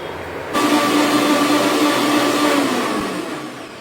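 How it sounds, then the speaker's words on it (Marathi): A mixer grinder whirs steadily while blending mango piyush with nutmeg and saffron, switching on sharply after a brief quiet start and running loud and continuous, easing slightly near the end. "हे आता मी मिक्सरमध्ये मिक्स करून घेतले"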